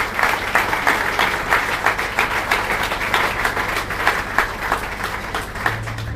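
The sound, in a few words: audience applause in tribute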